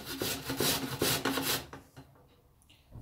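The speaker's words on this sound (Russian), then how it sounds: "На крупной терке натираю" Potatoes are grated on a coarse grater in quick rhythmic rasping strokes, close and fairly loud, then the scraping stops and only faint handling sounds remain.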